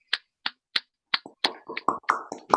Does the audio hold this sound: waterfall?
no